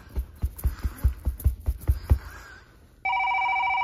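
A telephone starts ringing after a run of rhythmic clopping knocks, giving a steady, loud electronic tone that holds to the end with no voices.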